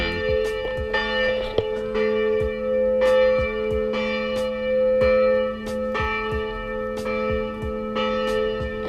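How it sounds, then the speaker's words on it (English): A church bell tolling repeatedly at a slow, even pace, each ring leaving a long humming resonance that overlaps the next strike. "without any stupid interruptions of that church bell"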